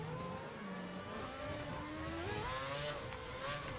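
An F1 2011 race car engine whines at high pitch in a video game, its tone stepping and sliding as gears shift down, steady and fairly faint.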